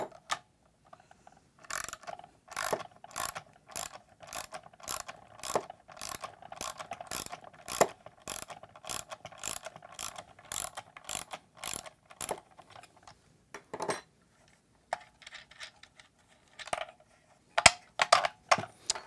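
A screwdriver ratchets steadily as two screws are backed out of an SB350 connector panel mount on plywood, a rapid train of sharp, close clicks with short pauses and a few looser taps near the end.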